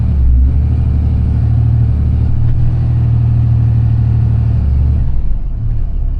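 A Ram truck with a 68RFE transmission revs in neutral during a transmission relearn: a loud, close, deep engine rumble that holds a raised steady pitch for about five seconds, then drops back toward idle.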